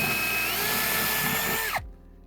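A power drill boring a hole into a wall with a dust bag held beneath, a steady high whine that runs continuously and then winds down sharply as the trigger is released, leaving near silence.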